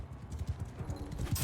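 Horse hooves clip-clop in the video game Bannerlord, a quiet, quick rhythmic run of low thuds as the mount moves along, with no speech over it.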